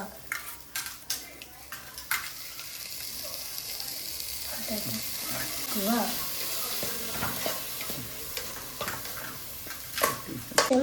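Coarsely ground pepper is stirred into chicken masala frying in a pan: irregular spoon scrapes and taps over a continuous soft sizzle, close by, with a brief louder rustle near the end.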